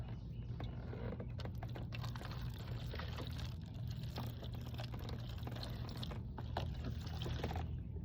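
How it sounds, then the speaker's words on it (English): Water poured from a pitcher into a seed tray, a continuous close trickling and splashing stream, fairly quiet and steady throughout. "I just need to fill it with water"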